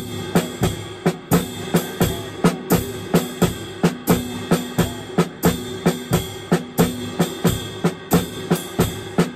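Jazz shuffle drum groove: bass drum, hi-hat, and ride cymbal in unison with the snare. It has a steady swung pulse with regular sharp hits, played alone and up close.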